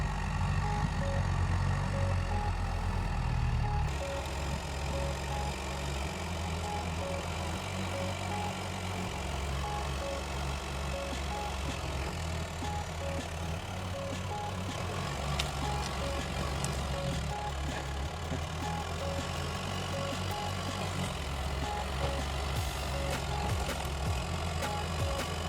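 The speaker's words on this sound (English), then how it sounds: "Firstly, let's try to turn around on the diesel machine." A diesel ATV engine runs steadily while the machine turns around in a tight spot among fallen trees, a constant low rumble with a shift in tone a few seconds in and no talk.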